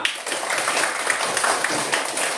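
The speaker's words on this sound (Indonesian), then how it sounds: "kita beri tepuk tangan untuk kita semua" A class of schoolchildren at the start of a computational thinking lesson gives a round of applause, a steady, even clatter of many small hands filling the whole brief moment.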